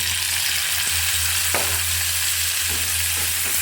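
Potatoes frying together with onion stalks and dried fish in a pan give a steady, loud sizzle, with a few sharp scrapes of stirring cutting through near the middle and again toward the end.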